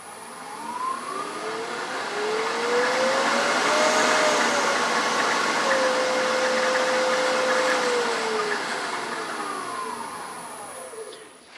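A thread chasing jig spindle spinning at very high speed, router-like around 2,500 RPM, gives a steady loud whine that rises in pitch, holds, then winds back down over several seconds, with no talk.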